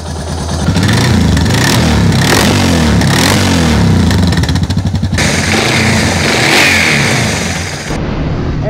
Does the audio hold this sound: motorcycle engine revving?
yes